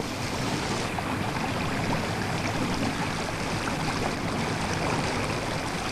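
The River Yare in Norfolk runs gently in winter, giving a soft, even watery rush that continues without a break and with no voices.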